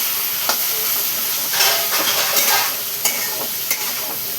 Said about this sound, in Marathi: बघू शकते अशी मस्त मी परतून घेणार आहे तेलामध्ये